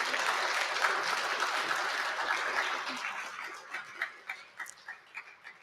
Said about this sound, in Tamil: அவருக்கு இன்னொரு பலத்த கைத்தட்டல் கொடுத்துடலாம்